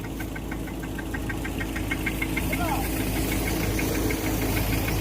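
Mini tractor engine running on a farm, a steady mid-pitched knocking drone with a fast regular tick, held evenly at moderate distance over the whole stretch.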